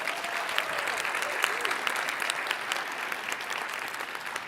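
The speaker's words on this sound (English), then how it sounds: "Huge round of applause for our top 5 finalists." Sustained audience applause for the top five startup finalists at the TechCrunch Disrupt 2025 Startup Battlefield, a steady dense clapping from a large crowd throughout.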